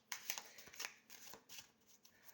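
Oracle cards are shuffled by hand in a quiet room, a short run of soft, quick riffling flicks and papery slaps close to the listener.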